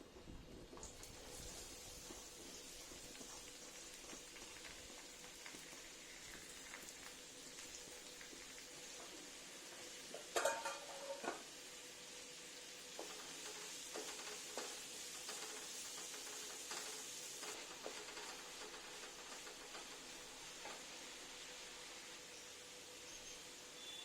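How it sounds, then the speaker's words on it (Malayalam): Finely chopped onions fry in a few teaspoons of coconut oil in a pan for mushroom masala, a steady soft sizzle with a few louder clatters and stirring scrapes near the middle, moderately quiet and with no talking. "സവോള ചെറുതായി അരിഞ്ഞത് ഇട്ട് കൊടുക്കുക."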